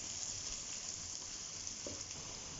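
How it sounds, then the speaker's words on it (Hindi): Onions softening in a pan for potato katliyan, a steady soft sizzle and crackle that runs throughout at low, even loudness with no voices. "अब प्याज को मैं इसमें जो है तकरीबन 3 मिनट के लिए जो है सॉफ्ट होने दूंगी"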